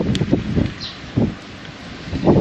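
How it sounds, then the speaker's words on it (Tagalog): Strong wind gusts buffet the microphone in uneven low rumbling bursts, with a rustling, blustery roar in between, at an outdoor bank repossessed car sale. "Lakas ng hangin, hinahangin yung payong ko,"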